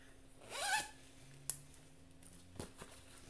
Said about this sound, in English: Oh no, there's a zipper.